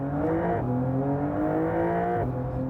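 Porsche 911 Dakar engine revving hard on an open road, a loud, clean rising wail with a gear change partway through, alone with no talk.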